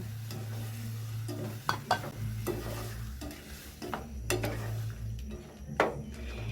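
Peach syrup being stirred into a mango pie filling mixture, with a spoon scraping and clinking against the bowl in several distinct strokes over a steady low hum.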